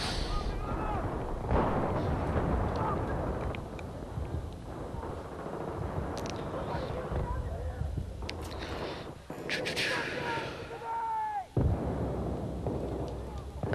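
Explosions and gunfire crack through a Battlefield 3 firefight, including a grenade blast, with a dense run of shots and booms over several seconds while players talk over the chaos.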